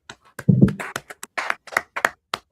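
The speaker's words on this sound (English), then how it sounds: "Clap it up." A small group claps in a brotherhood class, a loose, uneven scatter of about a dozen sharp hand claps over a couple of seconds, with no talking.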